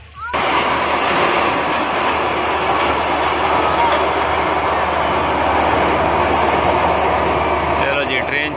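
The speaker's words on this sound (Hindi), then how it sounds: "चलो जी, ट्रेन चली गई" Amusement park ride train running along its long track in Kashmir Park, DHA Multan, giving a loud, steady, close rumble with rolling clatter that holds without a break, and people can be heard talking over it.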